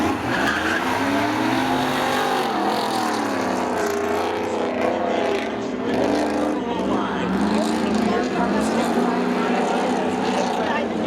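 A race car spinning out during spectator drags at Seekonk Speedway, a loud continuous roar of engines and screeching tires that fills the whole stretch, with a commentator's voice faintly woven under the din.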